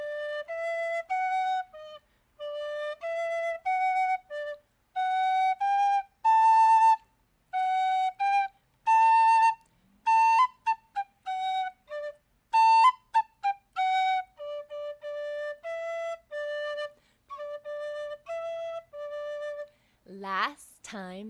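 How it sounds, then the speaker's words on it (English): A tin whistle plays a simple tune of short, bright notes in separate phrases, alone and clear, ending with a brief voice. "So I'll play the tin whistle and you try to sing along."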